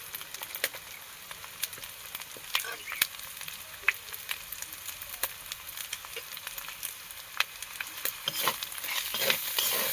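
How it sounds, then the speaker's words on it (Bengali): Ginger-garlic paste and spices fry in a pan for a spicy mussel curry, with a constant bright crackling sizzle and frequent sharp spatters and spoon scrapes, close and unbroken by speech. "আদা রসুন কষানো হয়ে গিয়েছে। এবার আমি বাকি মশলাগুলো সব একসাথে দিয়ে দেবো।"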